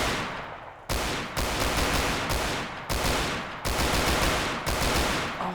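Rifle fire from a modded M16 in a war video game, several loud single shots spaced about a second apart, each crack followed by a ringing decay.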